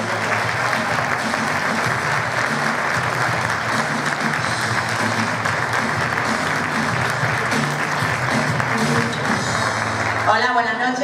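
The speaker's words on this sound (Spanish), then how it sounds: "¡Fuerte el aplauso!" Audience at a live comedy show applauds steadily as a comedian is welcomed, a sustained clapping wash with a loud announcer-style voice and music-like tones running over it.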